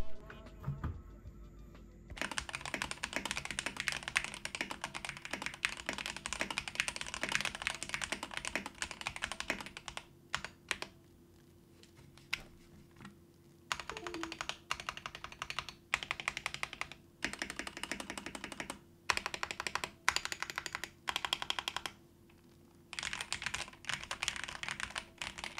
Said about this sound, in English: But we are a keyboard channel, so let's see how this thing sounds straight out of the box.